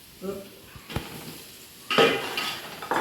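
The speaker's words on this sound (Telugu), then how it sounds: "ఇప్పుడు బూడిద గుమ్మడికాయ ముక్కలు వేస్తున్నాను." Ash gourd pieces are tipped into a pot of tomato and spice masala, giving a close utensil clink and thud followed by a rising sizzle and soft stirring.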